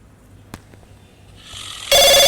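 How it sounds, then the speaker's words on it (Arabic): A loud electronic telephone ring bursts in near the end in the mobile game My City, following a quiet stretch of faint game ambience and a soft tap. "التليفون بيرن"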